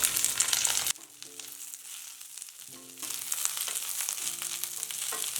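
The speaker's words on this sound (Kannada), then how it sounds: "ಬಾಣಲಿಗೆ ಒಂದು ಟೀ ಸ್ಪೂನಷ್ಟು ಎಣ್ಣೆ ಹಾಕ್ಕೊಳ್ಳೋಣ ಜವಳಿಕಾಯಿ ಹಾಕ್ಕೊಂಡು ಹುರ್ಕೊಳ್ಳೋಣ" Cluster beans fry in about a teaspoon of oil in a pan, giving a close, steady sizzle that drops out briefly and then resumes, with some faint clinks among the crackle.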